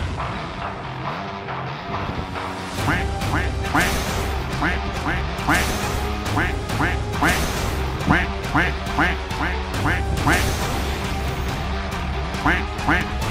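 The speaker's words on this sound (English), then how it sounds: "I love the duck noise." Duck quacks repeat as a game sound effect in the VR boxing rhythm game Box To The Beat, popping out over punch impacts and a driving beat while a person talks.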